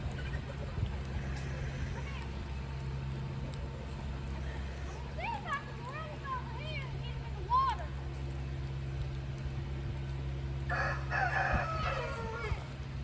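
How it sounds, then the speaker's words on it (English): A wet rooster crows a few times at middling distance during a heavy thunderstorm, over a steady low rumble of rain and wind, with a voice talking faintly in the background. "Poor little wet rooster."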